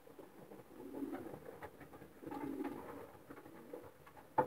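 Racing pigeons in a loft coo softly in repeated low, throaty phrases, fairly faint and close, with light rustling and a brief sharper sound near the end.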